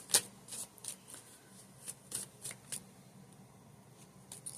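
Tarot cards are shuffled in a series of crisp, papery riffles and flicks, one sharp burst at the start followed by lighter irregular shuffles close by, with no voices.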